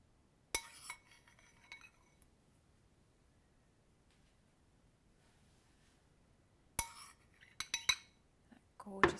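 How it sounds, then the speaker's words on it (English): Syrupy spiced cherries are spooned onto meringue with a metal spoon: a sharp clink at the start, then quiet, then a cluster of spoon-on-bowl clinks and taps toward the end, close but soft. "So just spoon on the cherries."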